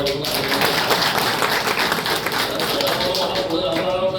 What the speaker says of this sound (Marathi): त्यासाठी सदाभाऊचं जोरदार टाळ्या